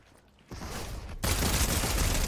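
Video game gunfire bursts out in dense rapid volleys, starting abruptly and growing louder and more continuous toward the end, close and harsh.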